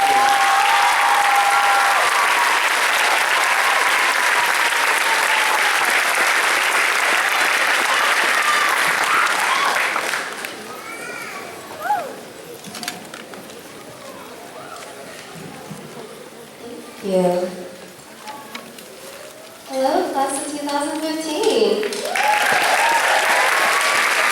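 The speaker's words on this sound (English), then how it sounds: "we give them a round of applause" Audience at an eighth grade graduation ceremony breaking into loud, dense applause that fades out midway, leaving quieter room sounds and brief voices, before clapping swells again at the end.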